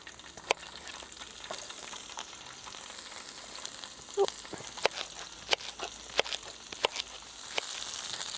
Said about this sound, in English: Start to put those in for a sizzle.